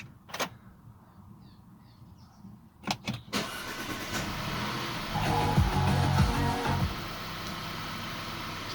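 An Audi B8 with a lean-running or cylinder-one misfire fault is started: a sharp starter crank burst, then the engine catches and settles into a steady, fairly loud idle rumble close by, alone without talk.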